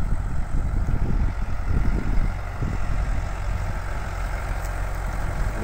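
A tractor engine drones while pulling a BISON disk harrow through a field on its third pass, a steady low rumble close and loud with uneven low-end churning and no talk.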